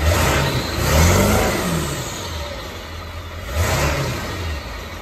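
A 2002 diesel truck with a 7.3 engine and stock exhaust idles with a low rumble, then revs up twice in swelling surges before settling back, with no talking.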